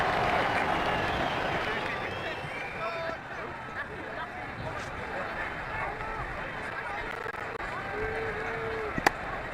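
A stadium crowd in the Ashes Cricket 2009 video game cheers and claps after a six in an IPL Rajasthan versus Chennai match, a broad roar fading slightly, with commentary speech over it.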